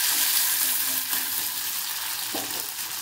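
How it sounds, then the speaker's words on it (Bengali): Ginger paste fries in hot oil for a flat bean dish, a steady close sizzle with faint stirring scrapes and no voices. "আদাটা যখন এখানে একটু হালকা ভাজা ভাজা হয়ে আসবে"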